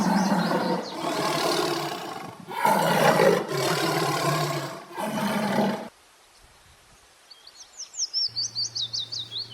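A tiger gives several loud, long roars in quick succession, each a deep rumbling burst, followed by a short pause and then a run of high chirping bird calls over a low steady tone.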